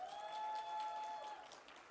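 Faint applause from an audience at a Rotary district conference, a soft, even patter of clapping that lasts a couple of seconds and fades slightly at the end.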